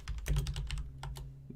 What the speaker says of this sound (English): I know you're going to hear some me doing a little bit of typing